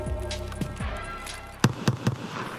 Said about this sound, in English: Hearing those three shots in quick succession like that confirmed two things